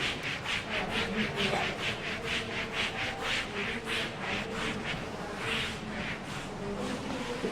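A duster rubbing writing off a classroom board, a steady rhythmic series of close scrubbing strokes repeating for several seconds without talk.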